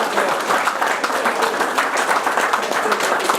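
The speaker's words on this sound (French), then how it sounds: "Vous pouvez l'applaudir parce qu'il le mérite." Dense audience applause filling a hall in Oradour-sur-Glane, a steady wash of many hands clapping at an even level throughout, with a voice faintly audible beneath.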